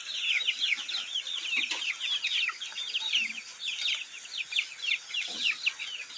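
Free-range Thai fighting chickens forage outdoors, a flock giving rapid, overlapping clucks and chirpy calls that carry on continuously at moderate volume.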